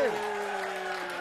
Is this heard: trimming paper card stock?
no